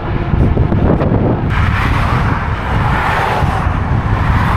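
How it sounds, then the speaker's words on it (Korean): Cars pass on a road heading toward St. John's, Newfoundland, heard from a bicycle on a windy day as a loud continuous roadway roar mixed with wind buffeting, with one vehicle swelling past near the middle. "이런 차들이 다 세인트 존스로 들어가는 차량인 것 같아요."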